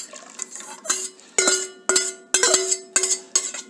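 A metal spoon scrapes and clanks repeatedly against a patila pot while strained tomato puree for cream of tomato soup goes back in, about seven sharp ringing knocks in a steady rhythm, close and clear.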